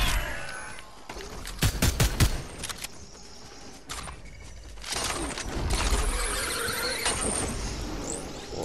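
Gunfire from a Fortnite-style video game in Zero Build mode, with sharp bursts of rapid shots clustered in the early part and a steady rattling, mechanical clatter continuing loudly throughout without speech.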